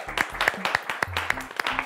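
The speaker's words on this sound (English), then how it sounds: "Come on, let's clap for them." A classroom audience of pupils claps for a winning quiz team, a dense burst of sharp claps running through the whole short stretch, close and fairly loud, with a cheer and a few voices mixed in.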